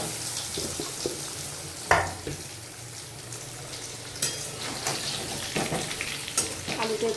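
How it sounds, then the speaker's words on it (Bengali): Potatoes coated with turmeric and salt fry softly in oil in a pan, a quiet steady sizzle broken by a few sharp scraping stirs, close but low in level. "আলুটা একটু নাড়িয়ে দেবো।"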